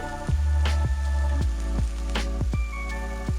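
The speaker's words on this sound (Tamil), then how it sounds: "தேவையான அளவு உப்பு சேர்த்து நல்லா கலந்து விட்டுக்கலாங்க" Salt is stirred into frying onions, giving a handful of sharp wet squelches and scrapes at irregular intervals over a steady close sizzle, with no voices.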